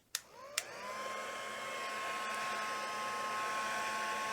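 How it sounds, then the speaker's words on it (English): Heat tool blowing steadily at close range over embossing powder on a silicone mat, a loud continuous airy whir with a faint high whine, preceded by two sharp clicks as it switches on. "I'm going to use my heat tool and you can heat on the silicone mat"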